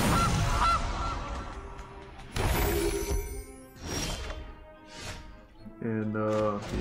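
Gilded Goose card effect in MTG Arena: a whoosh and shatter-like hit, then a sequence of loud nasal goose honks, the last one a clear stacked honk near the end, with a voice talking over parts of it.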